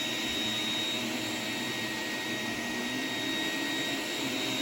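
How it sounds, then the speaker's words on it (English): An iRobot Roomba 980/981 robot vacuum runs with a steady, close, continuous whirring drone and broad hiss, unbroken and without talk throughout. "This robot is essentially the Roomba i7 minus the smartness."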